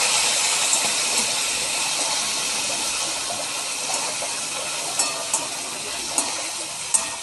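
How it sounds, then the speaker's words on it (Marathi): Green chilies and garlic sauté under a lid in a pan for lasun mirchi thecha, giving a steady bright hiss and soft sizzle with a few light pops and clicks toward the end, no voices present. "झाकण ठेवून छान परतून घेऊयात एक दोन तीन मिनटं"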